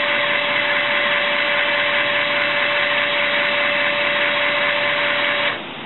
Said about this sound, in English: The actuator will move to the second position.